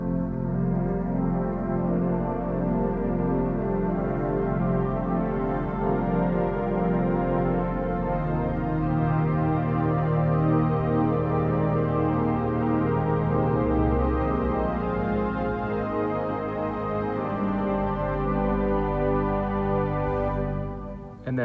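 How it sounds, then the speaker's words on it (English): Chancel pipe organ sounding soft viol celeste, vox angelica and dolce ranks with their celestes, a sustained, steady chordal wash that swells slightly midway and fades at the end, with no voices. "So the viol celeste, the vox angelica and its celeste,"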